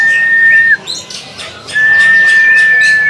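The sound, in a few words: thrush singing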